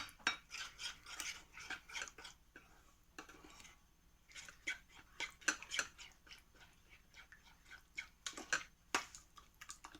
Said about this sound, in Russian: Хорошенько перемешиваю.